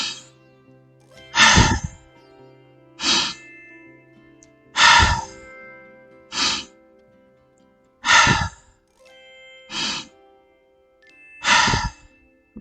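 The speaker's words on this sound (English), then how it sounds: "So as you heard, I did 4 breaths, breathe in and exhale." A breath exercise of slow nasal inhales and exhales: about eight distinct, close breaths in an even rhythm, each a soft airy swell separated by quiet pauses.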